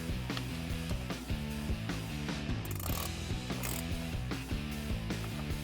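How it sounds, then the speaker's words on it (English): A wrench ratchets steadily to tighten the cold air intake clamps on a 2011-2019 Dodge Charger 3.6L V6, with rapid repeated clicking running throughout over a busy musical backdrop. "I'm going to grab a wrench and we'll tighten that down."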